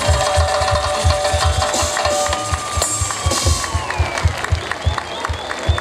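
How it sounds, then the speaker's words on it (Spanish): An audience at a music event applauds the sound technicians, steady clapping over lingering sustained instrument tones, fairly loud and continuous throughout. "fuerte ese aplauso."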